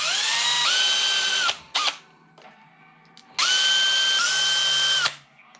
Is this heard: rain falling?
no